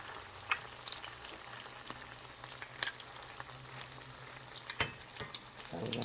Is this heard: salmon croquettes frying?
yes